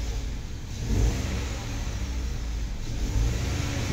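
A Ford EcoSport engine running steadily after a restart, a close, continuous mid-pitched engine hum with slight rises in level but no speech.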